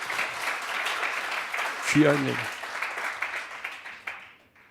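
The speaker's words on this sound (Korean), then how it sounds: "우리 수고한 예배팀에 박수 한번 쳐주세요" A church congregation at a Friday worship service applauds the worship team with sustained, even clapping, and someone speaks briefly over it.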